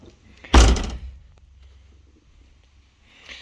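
The solid steel door of a Toyota AE86 slams shut with one heavy, close thunk that rings off briefly, followed by quiet with a faint rustle at the end.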